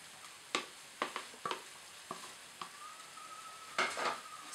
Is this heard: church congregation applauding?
no